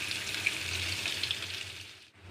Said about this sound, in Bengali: 5 ফোড়ন ও কাঁচা লঙ্কাটা ভাজা হয়ে গেলে এবার এতে দিয়ে দিচ্ছি পেঁয়াজ কুচি।